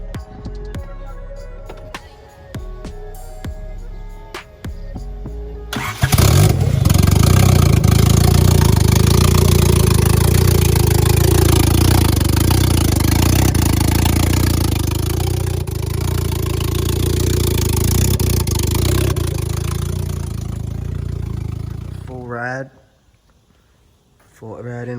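A Honda D16 engine in an EF hatchback turbo build cranks over and fires, then settles into a loud, steady idle with mechanical clatter for about sixteen seconds before cutting off, with a brief stretch of other noise before it starts.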